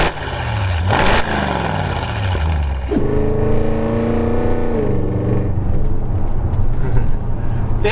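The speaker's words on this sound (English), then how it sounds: "Definitely the noisiest car I've ever driven" An 820 bhp methanol-injected Audi RS6 accelerates hard, loud and close, its engine note climbing through rising revs with brief breaks between gears.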